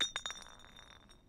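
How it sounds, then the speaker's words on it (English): A small object drops from a character's pocket in the Zero Escape video game, landing with a soft glassy clink followed by a couple of quick, faint bounces that fade out. "something fell out of his pocket with a soft clink"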